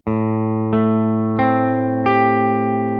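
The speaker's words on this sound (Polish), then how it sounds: "Gramy teraz od piątej do drugiej struny po kolei dźwięki, kostując je w dół." Four single guitar notes picked downward one after another from the fifth to the second string, each sustaining into the next, with a clean, slightly processed tone.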